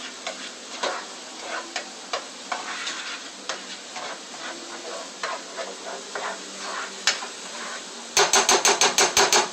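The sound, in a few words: onion sizzling in olive oil in a pan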